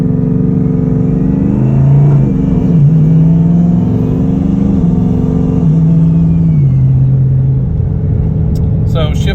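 A car fitted with a BL Fabrications single turbo kit drives in daily traffic, running at only 7 pounds of boost. The engine hums loud and close as it revs up through the gears, with clear tonal shifts between gears.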